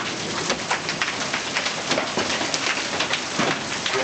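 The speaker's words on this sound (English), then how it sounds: "You guys watching the hail just bounce all over the car?" Hail hammers a car in a storm near Oklahoma City, a loud, unbroken rattle of stones on metal and glass that holds at full intensity throughout.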